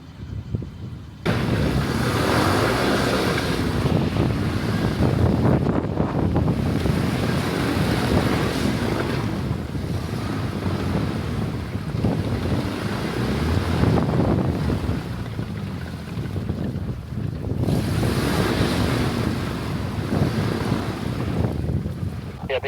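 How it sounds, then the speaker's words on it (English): Strong wind roars and buffets the microphone almost continuously outdoors in central Washington, with low rumbling gusts rising and easing over the length of the recording. "it just got super windy out here."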